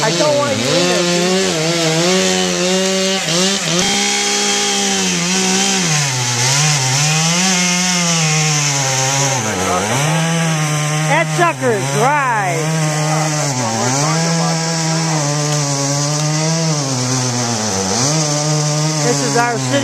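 A chainsaw runs continuously while a city forestry crew cuts down a tree, its loud, steady whine rising and dipping in pitch as it bites into the wood, with voices briefly audible over it.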